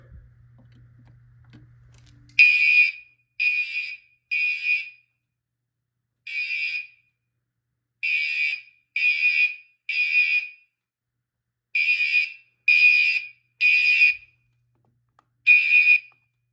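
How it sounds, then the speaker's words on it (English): Three fire alarm horns blare together in short, harsh bursts during a system test, repeating in an uneven rhythm with brief silences between, after a low hum fades out. "It's weird to hear 3 of them go off at the same time"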